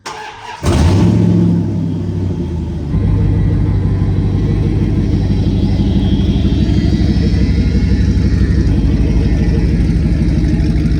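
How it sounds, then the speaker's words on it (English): A second-generation truck, stripped down to its frame, cranks and fires up, then settles into a loud, deep, lumpy idle that rumbles steadily and close by. "So she's out here idling"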